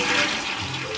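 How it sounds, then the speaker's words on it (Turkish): A toilet flushes in the Minecraft video game, a brief, loud, dense rush of water heard up close, filling the whole moment without any talking. "Gel çabuk, sifonu çekin çabuk."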